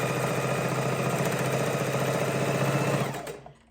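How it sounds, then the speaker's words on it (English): A sewing machine chain-stitches a stack of four-patch baby quilt blocks, running in a steady, close, continuous mechanical whir for about three seconds before stopping abruptly. "we're simply going to chain stitch this stack together and create our quilt, baby quilt"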